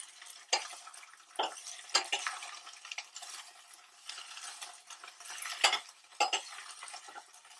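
A spoon scraping and stirring coriander pickle in a pan, with intermittent clinks and scrapes against the metal over a faint sizzle, fairly quiet and close.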